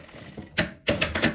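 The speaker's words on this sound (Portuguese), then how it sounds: "Costura a beiradinha primeiro." A sewing machine runs in short bursts while stitching the edge of a zipper on a travel toiletry bag, giving loud close mechanical whirring with brief stops between runs and no talking.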